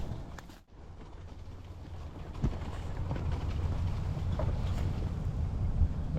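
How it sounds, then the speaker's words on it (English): Steady wind blows outdoors at a fishing spot, a broad low rumble with microphone buffeting that stays fairly constant and moderately loud, with no one talking. "The wind is just not in my favor."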